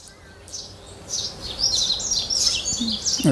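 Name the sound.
Wild bird singing in the front yard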